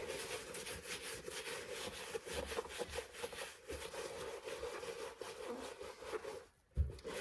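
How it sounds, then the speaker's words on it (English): A brush scrubs suede uppers on New Balance shoes in rapid back-and-forth strokes, a close, soft rasping rub with a brief pause near the end. "don't scrub too hard, just let the brush do the work"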